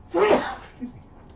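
One sharp, close sneeze bursts out suddenly, followed by a brief quiet vocal sound.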